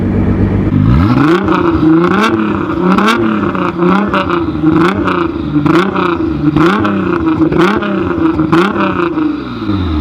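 A Nissan GT-R with an Armytrix exhaust revs up and down repeatedly to about 4,000 rpm, loud and close, in steady rising and falling surges with no talking.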